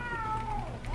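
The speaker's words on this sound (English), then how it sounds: "That one ugly cat is humping Princess Lady" A cat gives a brief meow over a steady background hum, with a rising tone near the end.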